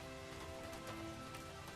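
Steady rain falling, a soft continuous patter with faint tonal background music, no voices.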